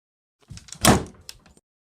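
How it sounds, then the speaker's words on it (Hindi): A story sound effect of a door slowly opening plays as one short creak and thud, loud and close, lasting about a second, with no voices. "दरवाजा धीरे से खुलता है"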